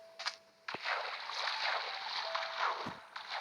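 A boat glides across water in Minecraft gameplay, giving a soft, continuous splashing and rushing water sound with a few short bursts, fairly quiet and without talk.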